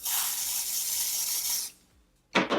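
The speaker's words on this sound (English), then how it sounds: "I'm actually gonna spray on the beauty sponge" A close, steady hiss of a fine mist of makeup setting spray onto a beauty sponge lasting over a second, then a brief pause and a second short spritz.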